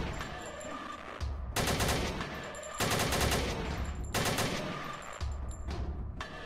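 Pistol gunfire in Putrefaction, a DOOM-like video game: repeated, forceful bursts of shots, each lasting about a second, with short pauses between them.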